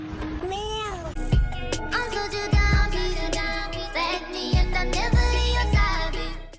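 A cat's rising and falling meow, then loud music with heavy bass thumps and bright synth notes.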